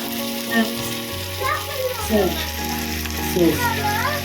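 Chicken frying in a hot pan gives a steady close sizzle and crackle, while a man and a child chat over it.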